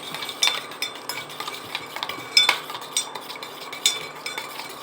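Homemade skin whitening soap ingredients are stirred together in a bowl, giving soft scraping with repeated light clinks of a utensil against the container at an uneven, close-up rhythm. No one speaks.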